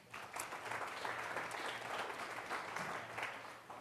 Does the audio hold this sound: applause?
yes